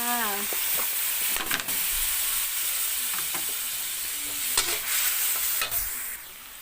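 Water poured onto sugar in a hot frying pan for a crispy chicken basil stir-fry, giving a steady sizzle with scraping stirs and brief clinks, close and fairly loud.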